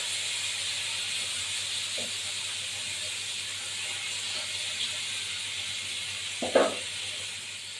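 Fish sizzles in a frying pan while being cooked for a Bengali fish and potato curry: a steady, even hiss throughout, broken by a couple of soft clunks near the end.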